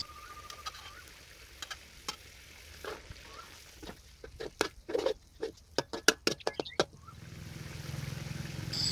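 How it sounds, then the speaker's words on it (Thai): Beef simmers in curry paste for a Thai pineapple beef curry, quiet bubbling and spitting with a burst of rapid pops and taps in the middle, then a louder steady sizzle at the end. "แล้วใส่เนื้อลงไปได้เลยครับ เคี่ยวเนื้อต่อครับ"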